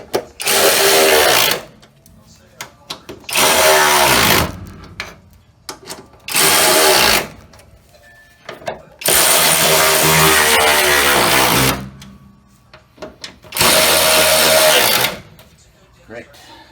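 Power tool driving suspension bolts on a small-body AMC Gremlin or Hornet front end, five loud whirring bursts of a second or more, each separated by short pauses, with someone talking in the gaps.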